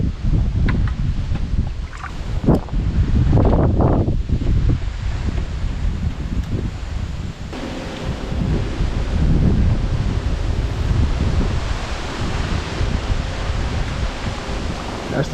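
Strong wind roars steadily through trees at night, a loud, broad rushing with gusts that swell and ease, heard alone without any talk.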